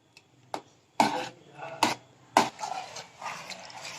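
Cut mango pieces are dropped and stirred into custard in a pan, giving several sharp spoon clinks and scrapes spaced out across the moment, fairly close and moderately loud, with no voices.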